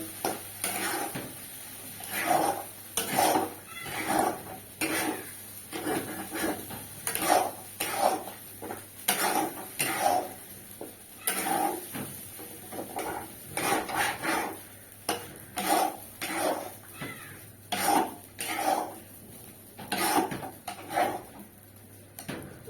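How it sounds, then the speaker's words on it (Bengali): Pumpkin dhoka is stirred in a pot with a long run of steady, rhythmic scraping and rasping strokes, close and fairly loud, with no voices. "এবার নাড়তে থাকবো।"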